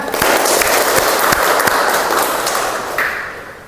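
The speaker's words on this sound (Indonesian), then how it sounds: "Tepuk tangan." Applause from a classroom of students, a dense steady patter of claps with a few sharper thumps, loud and close, fading slightly toward the end.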